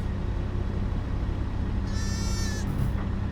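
A single sheep bleats briefly in Farming Simulator 22 over a constant low engine rumble, a wavering synthetic-sounding cry near the end.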